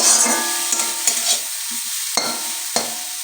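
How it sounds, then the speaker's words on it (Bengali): Dry grated old coconut scraped and stirred around a dry kadai with a spatula, soft rustling scrapes with a few sharper knocks against the metal. "পুরনো নারকোল দিয়ে আমি এক মিনিট শুকনো কড়াতে নাড়াচাড়া করে নেব"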